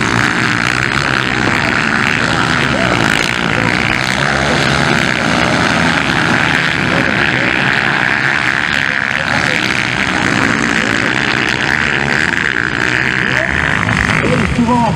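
Motocross bikes in a cadet-class velocross race rev together at the start line in a continuous buzzing engine roar, loud and sustained, while an announcer talks over it.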